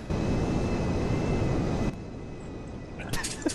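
A small airplane taxiing outdoors, its engine a loud steady drone for about two seconds before dropping to a lower, quieter rumble, with brief noisy sounds near the end.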